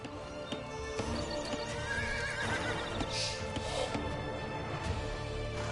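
Scout Cavalry horse in the Age of Empires 2 video game, clip-clopping hooves with a neigh and whinny amid faint game effects, a quiet, layered mix with no talk.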